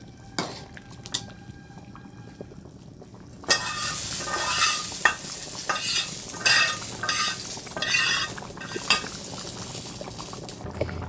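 Curry with taro and tengra fish stirred in a pan just after cumin goes in: quiet pause, then a sudden loud sizzle and bubbling with scraping spoon strokes against the pan, close and continuous.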